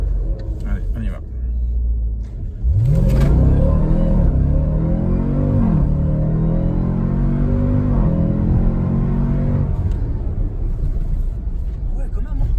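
A 2020 Jeep Trackhawk with a 707 hp V8 accelerates hard from inside the cabin, its deep engine roar rising in pitch through several gear changes and staying loud for about ten seconds; a passenger exclaims over the run.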